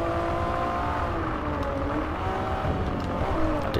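A race car engine in Forza Motorsport 3 drones steadily and shifts pitch as it downshifts, a loud continuous in-game engine note with faint tire noise.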